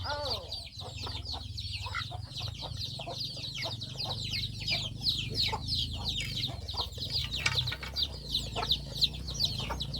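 Chickens cluck and chatter continuously in a rural village yard, a busy overlapping chorus of short calls that stays close and steady over low background noise.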